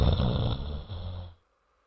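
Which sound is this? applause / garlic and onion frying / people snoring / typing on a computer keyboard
people snoring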